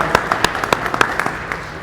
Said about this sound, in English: Everybody clap for Brad.